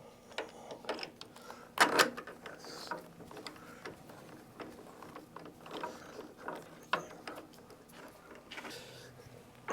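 A ratchet tightening bolts on the rear shock of a 2022 KLR650 motorcycle, heard as rapid close clicking runs with metallic clinks and handling noises, fairly quiet overall.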